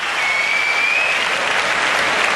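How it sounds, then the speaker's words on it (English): A crowd cheers and applauds steadily and loudly for the Japanese female kata team at a martial arts competition, a dense continuous roar with a faint tonal whistle running through it. "The Japanese and the crowd, as we can hear, absolutely getting behind them."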